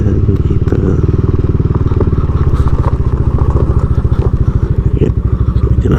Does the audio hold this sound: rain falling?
no